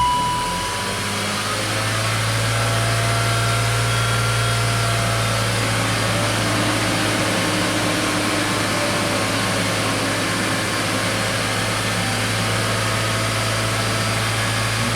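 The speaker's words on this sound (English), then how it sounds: "We'll rev it up a little bit too." A BMW X5 with a misfire idles at close range, giving off a steady low hum with a faint rough edge that stays even throughout and barely rises, with no talk over it.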